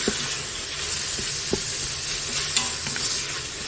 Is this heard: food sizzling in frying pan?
yes